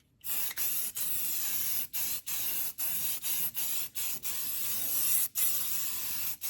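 A spray can lays a light coat over welded bare metal on a 1949-51 Mercury, steady hissing bursts broken by short pauses in a rhythmic sequence, close and loud.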